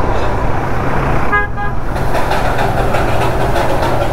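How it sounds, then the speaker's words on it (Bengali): The Darjeeling toy train sounds a short, bright horn toot over the loud, steady rumble of its engine, heard close by. "ও, এই সাউন্ডটা এত মিষ্টি লাগে না, মানে অন্যান্য ট্রেনের মতো এই হর্নটা নয়।"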